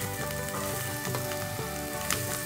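Chopped onion sizzles steadily in hot oil in a frying pan, a close, continuous crackle and hiss with no talking.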